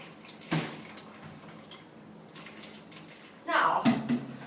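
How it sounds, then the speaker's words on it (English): Water is poured through a classroom kidney model, a container holding a tea bag, giving a couple of short splashy pours with a quiet room hum between them. "Firstly, we'll be pouring water through our model."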